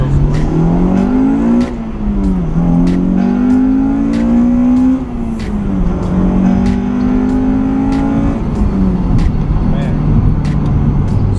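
A Honda Integra Type R with a swapped engine revs up through the gears from inside the cabin, its engine note rising in repeated sweeps as VTEC kicks in, loud and close, with a voice talking over it.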